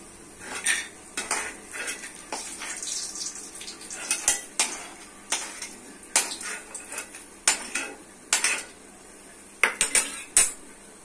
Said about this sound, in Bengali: আমরা কড়া বসিয়ে দিচ্ছি সয়াবিন অয়েল, বড়িটা ভেজে নিচ্ছি